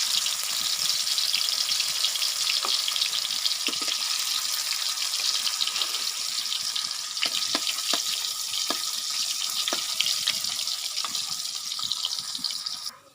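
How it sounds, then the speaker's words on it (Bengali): Rice fries in a hot pan with a loud, continuous hissing sizzle and scattered sharp crackles, heard close and alone. "আর এই যে ভাত ভাজতেছি"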